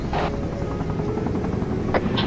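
A helicopter in a video game drones steadily nearby, its rotor giving a constant pulsing rumble, with a couple of brief sharper noises over it.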